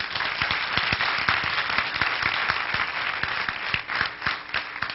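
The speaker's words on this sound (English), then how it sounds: "Please give them another round of applause." An audience at a panel discussion at Morehouse College claps in a dense, sustained round of applause that holds steady at a moderate distance throughout.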